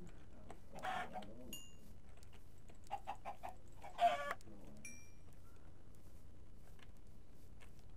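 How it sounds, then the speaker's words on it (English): Faint, sparse clucks and brief squawks from chickens in Minecraft, a few short bursts scattered over quiet background hum. "Oh, I got chickens."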